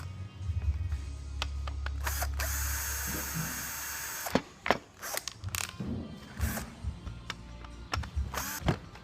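Screws are loosened to free a wood trimmer from its base. Short whirring bursts from a power driver alternate with close mechanical clicks and handling knocks.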